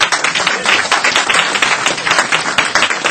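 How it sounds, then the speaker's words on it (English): An audience at an expo panel claps loudly and close, a dense run of individual hand claps forming lively applause that stays strong throughout. "Let's put your hands together and clap for him"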